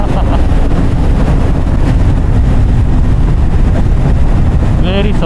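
A Kawasaki Z900 SE motorcycle rumbles steadily on the road in Malaysia, its engine mostly buried under loud, constant wind roar against the helmet microphone. A voice can be heard faintly under the wind.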